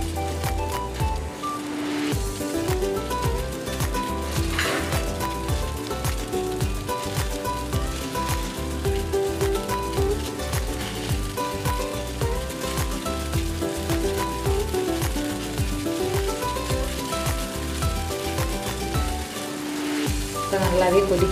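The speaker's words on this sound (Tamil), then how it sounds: "நல்லாவே கொதிக்குது எல்லாமே மேலே வந்துச்சு" Steady bubbling and sizzling of a pot of water at a rolling boil cooking homemade wheat-flour pasta, continuous and close, with faint background music or voice underneath.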